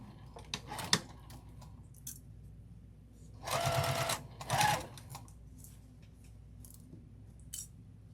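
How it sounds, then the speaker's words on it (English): A sewing machine stitching a half-inch seam around a fabric crossbody bag, two short fast bursts of whirring needle action among quieter clicks and fabric handling, close and clear. "I'm just going to start sewing this at 1/2 inch all the way around."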